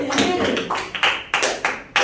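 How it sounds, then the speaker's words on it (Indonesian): A classroom of students gives a short round of applause, heard as a few loud bursts of clapping close by, with voices mixed in. "Tepuk tangan"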